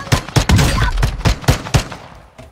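Gunfire in the Fortnite video game: a series of about seven sharp, loud shots in an uneven rhythm, close and dominant, with a tail of reverberant noise between them and no talk over it.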